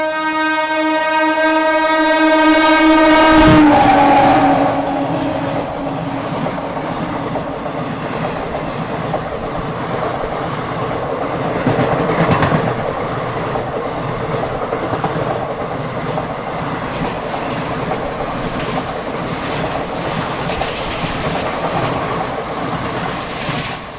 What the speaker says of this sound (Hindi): कोई तो गाड़ी स्किप कर रही है, पहले वो दिखाता हूँ आपको